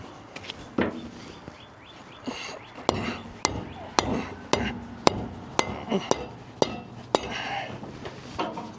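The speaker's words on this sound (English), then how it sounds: "Get the big hammer" A big hammer drives new seals into a hydraulic cylinder of a JCB 1400B backhoe, giving about a dozen sharp, ringing metallic blows at a fairly steady pace, close and loud.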